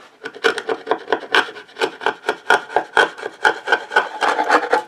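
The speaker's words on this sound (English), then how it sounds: "I'll still sand it down, but I don't want any big gouges if I can help it" Abrasive sanding strokes rasp across the curved top of a wooden cosplay shield, a rapid rhythmic series of close, loud back-and-forth rubs with no talking.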